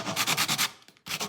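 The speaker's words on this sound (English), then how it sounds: "we'll just get a little bit of sandpaper on there and smooth that down" Sandpaper rubs cracked plastic on a Mercedes R107 SL centre console in quick, close strokes: five steady rasps, a short pause with light scrapes, then one more stroke.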